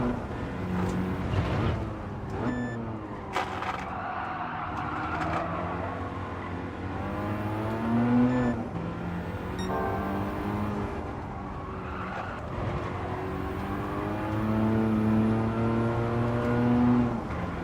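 A car in the Gran Turismo 7 video game with a loose, sliding rear end, its engine droning and revving continuously through shifting gears, rising and falling pitch sweeps and brief skid-like bursts, close and steady with no talking.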